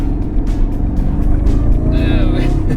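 Jaguar car engine, fitted with a Wraptor Customs tuning device, pulling under gradually increased throttle while held in third gear, a loud deep drone with rising revs heard from inside the car, with a voice speaking briefly over it.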